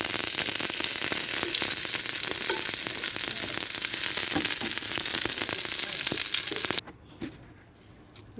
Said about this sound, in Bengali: এভাবে আস্তে আস্তে হালকা আঁচে ভেজে নিতে হবে।